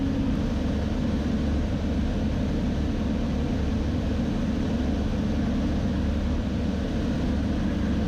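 An EV-97 Eurostar microlight aircraft cruising at about 1,100 feet, heard from inside the cabin as a loud, steady, unbroken engine and propeller drone mixed with airflow noise.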